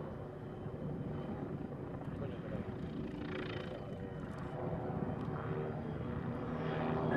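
Bölkow Bo 105 helicopter of the Luftwaffe flying an air show demonstration at Luchtmachtdagen 2014, a distant rotor and engine drone rising and falling as it maneuvers, growing louder toward the end, with commentary over it.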